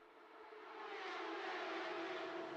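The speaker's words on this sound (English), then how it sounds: "There we hear this louder Porsche cars of the 2023 season because of the new exhaust type that we have" Porsche race cars of the 2023 season, fitted with a new, louder exhaust type, roar around the Interlagos circuit during a race, a steady loud engine drone that swells in the first second and then holds.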